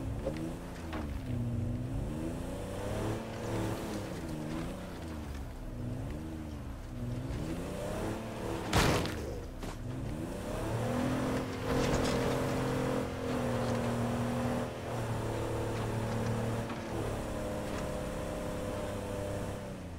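A car engine in a video game revs up and down in a wavering, rising-and-falling drone, with a sharp bang midway, then settles into a steadier high engine tone.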